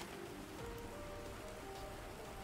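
Rain falling in the survival game Planet Crafter, a steady soft hiss of drops spread evenly across the scene, with faint tonal game ambience beneath and no voices.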